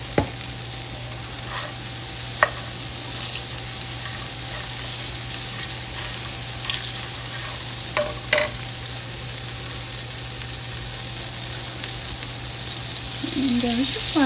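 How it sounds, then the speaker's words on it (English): Oat milk poured into a hot, sizzling pan for a mushroom spinach alfredo sauce, giving a steady close frying hiss with a few brief clinks and stirring scrapes throughout. "And then we'll add in our milk. I'm going to be using my oat milk"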